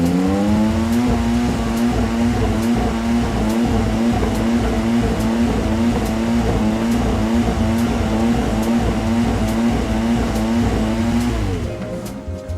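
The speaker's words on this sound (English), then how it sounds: "that particular noise comes from the Peugeot 9X8" The Peugeot 9X8 hybrid Le Mans prototype in Gran Turismo 7 runs at a steady high-revving engine note with a sustained tonal whine and regular rhythmic ticks, loud and close, easing off at the very end.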